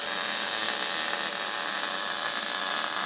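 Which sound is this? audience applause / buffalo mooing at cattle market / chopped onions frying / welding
welding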